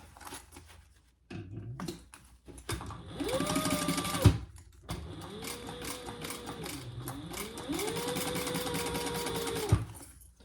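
A sewing machine bastes layered fabric pieces of a triple-zip crossbody bag, running in several close, steady stitching bursts separated by short pauses.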